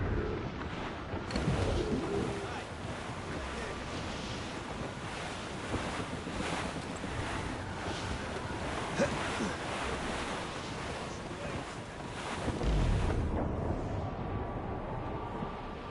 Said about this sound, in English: It's quite a rough squall